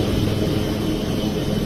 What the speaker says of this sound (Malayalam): നേവിയുടെ ഹെലികോപ്റ്റർ അവിടെ എത്തുന്നു